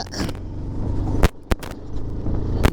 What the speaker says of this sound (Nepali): बाइकले तुफान हानिरहेछ